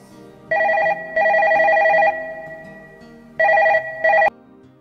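A telephone rings loud and close in an Assamese feature film, its electronic trill arriving in four separate bursts with short silent gaps between them.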